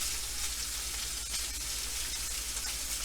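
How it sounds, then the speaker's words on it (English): A tomahawk beef ribeye seared on its fat side gives off a steady, close, loud sizzle with a continuous fatty crackle and no talk over it. "Now I'm going to sear the sides. This is the other side. Sear the fat side."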